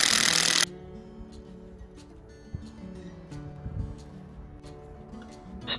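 A cordless electric drill bores into the trunk of a Manchurian walnut tree to tap sap. A sharp burst opens, then a steady humming whine with faint knocks runs on alone at moderate distance.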